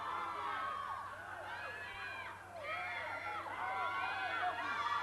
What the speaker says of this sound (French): Et la foule qui s'anime!